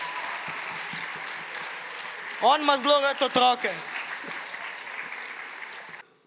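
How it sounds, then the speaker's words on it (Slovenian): Audience applause at a Saint Nicholas (Miklavž) concert, a steady wash of clapping that runs through most of the stretch while a voice speaks over it near the middle, then cuts off abruptly at the end. "Dajmo en aplavz za svetega Miklavža!"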